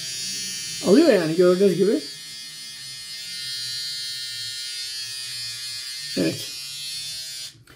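A battery-powered Gillette Styler electric shaver buzzes steadily while trimming sideburns and beard, close to the microphone, with someone speaking Turkish in short bursts over the hum.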